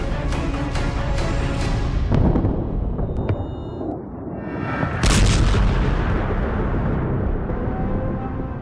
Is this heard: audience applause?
no